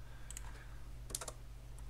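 Keys clicking on a computer keyboard during 3D modeling work in Blender, two short bursts of a few quick clicks each, fairly close and crisp over a steady low electrical hum.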